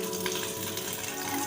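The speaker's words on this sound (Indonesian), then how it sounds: "mencuci tangan dengan sabun di air mengalir" Running water pours steadily from a tap as hands are washed with soap, a continuous close splashing hiss with no talking.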